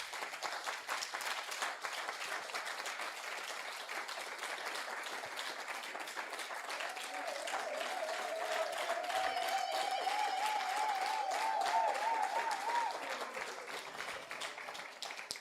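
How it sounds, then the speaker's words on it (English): A crowd at a community hero awards evening claps in a sustained, even wave of applause that stays fairly soft and distant, with a thin rising whistle-like tone cutting through partway in. "I think you need to just applaud her."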